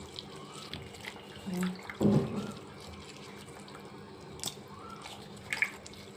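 Water sloshing and dripping as vegetables are rinsed by hand, with a few splashes and clinks; a voice murmurs briefly in the background.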